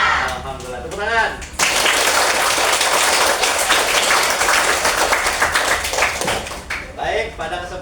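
A classroom of schoolchildren bursts into loud, dense hand clapping for several seconds during a morning school lesson, bracketed by a teacher speaking briefly before and after the applause.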